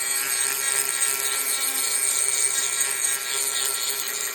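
Power sander working over a B5 Passat door handle, a steady high-pitched whine with faint grinding that holds at an even level for the whole stretch, with no talking.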